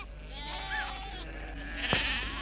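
Sheep bleat a few times at moderate distance on a farm yard where a young kelpie pup is working them, with faint background noise and no talk over the calls.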